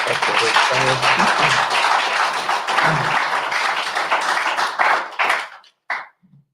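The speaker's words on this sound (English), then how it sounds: "You're getting a round of applause." A crowd applauding and clapping steadily for several seconds, broad and dense, tapering off near the end with a few scattered claps.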